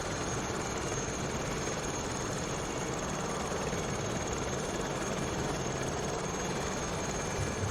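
A steady, droning Aérospatiale SA 315B Lama helicopter engine idles continuously in Microsoft Flight Simulator 2020, with a low rumbling hum and faint high whine, unchanging throughout.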